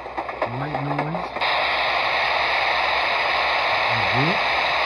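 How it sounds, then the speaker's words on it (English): A bedside sound machine switches to its white-noise setting, a steady loud hiss that starts abruptly and holds evenly, preceded by a short burst of talk. "white noise,"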